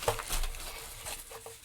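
A Jazza-branded fabric tool caddy rolled up with tools inside, giving soft, quiet rustling and patter with a few small crinkles over under two seconds.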